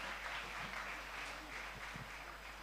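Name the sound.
audience applauding the chairman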